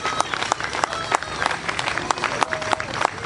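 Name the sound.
crowd applause at a political rally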